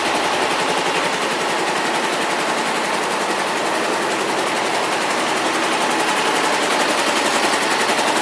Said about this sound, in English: Got that characteristic parallel twin noise.